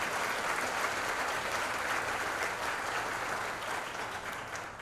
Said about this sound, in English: Give Kathy and all of her people a great round of applause